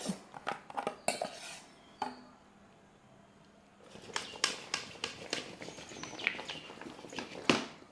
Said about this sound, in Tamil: மறுபடியும் நல்லா கிளறி விட்டுருங்க இந்த கடலை வந்து தெரியக்கூடாது